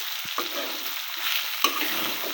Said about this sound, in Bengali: আমি এইভাবে একটু লাল লাল করে ভেজে নেব